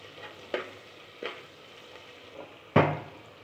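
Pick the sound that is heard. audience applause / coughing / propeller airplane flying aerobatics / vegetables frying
vegetables frying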